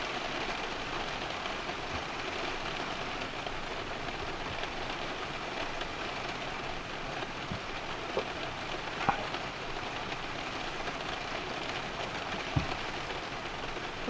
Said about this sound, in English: This rain here.